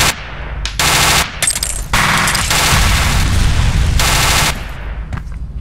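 Automatic weapons fire loudly in bursts in the F.E.A.R. first-person shooter video game. The rattling volleys come in several clusters separated by short gaps, with booming impacts and echoing debris between them.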